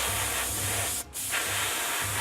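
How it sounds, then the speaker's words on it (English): Steady, close hiss of an aerosol spray paint can spraying blue paint on wargaming miniatures, interrupted once by a brief pause before spraying resumes. "spray them blue now."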